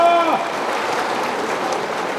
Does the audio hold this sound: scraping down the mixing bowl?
no